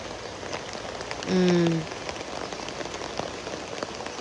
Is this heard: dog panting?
no